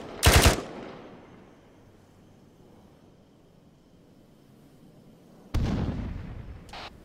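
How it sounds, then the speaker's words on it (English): Bursts of machine gun fire in the game Arma 3, a loud rapid volley at the start that rings and decays, then a long lull before a second sustained burst near the end. "Laying down suppressive fire."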